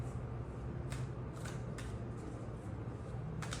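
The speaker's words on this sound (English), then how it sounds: "I'm shuffling the tarot deck" A tarot deck being shuffled by hand, heard as a soft, continuous papery riffle with a few brighter snaps, fairly quiet over a steady background hiss.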